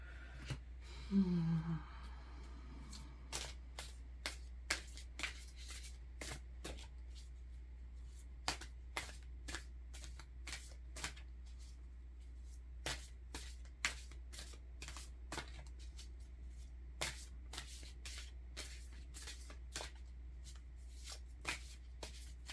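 Oracle cards are shuffled by hand in a quiet room, a long series of crisp riffling clicks and flicks at an irregular, unhurried pace, with a brief breathy sigh near the start.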